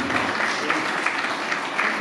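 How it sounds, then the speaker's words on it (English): An audience at an alumni leaders' conference applauds an awardee, a loud, sustained, even roll of many hands clapping, with no voices over it. "Let's give her a round of applause."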